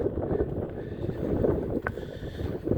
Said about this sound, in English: it's a warm day today, but it's pretty windy